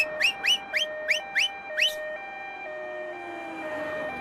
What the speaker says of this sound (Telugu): మన వెనక పోలీస్ జీప్ కదా రావాల్సింది, అంబులెన్స్ వస్తుంది.